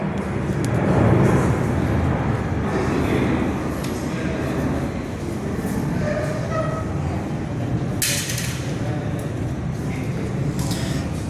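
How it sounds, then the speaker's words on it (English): A Qantas Boeing 737-800 jet departs Perth airport, its engines giving a steady, loud roar that swells slightly early and holds through, heard from an indoor viewing platform with brief higher hisses partway. "Qantas 737-800 departs Perth."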